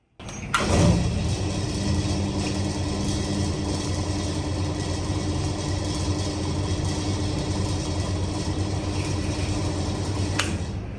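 A hotel bathroom light switches on with a click and gives off a steady, buzzing electrical hum with a low droning tone, holding evenly for about ten seconds before clicking off.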